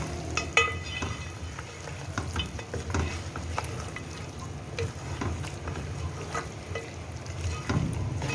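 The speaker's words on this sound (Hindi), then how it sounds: "अब मैं इसकी भुनाई करूँगी ताकि गोश्त की स्मेल जो है वो अच्छी तरह ख़त्म हो जाए" Mutton fries in a pot for yakhni pulao, a steady close sizzle under repeated scraping and stirring strokes from a spoon, with no voices.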